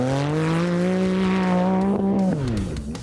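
A striking orange Pro-Buggy in desert off-road racing, its engine roaring loud and close with a steady high whine that rises slightly, then drops in pitch as it shifts or passes by.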